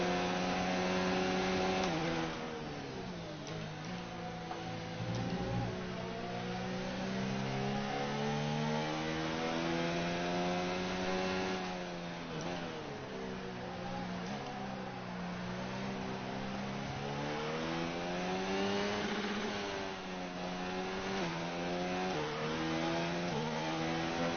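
A McLaren Formula 1 race car engine in the F1 2019 racing game screams continuously, its pitch rising and dropping in repeated sweeps as the car accelerates and brakes through corners, loud and alone.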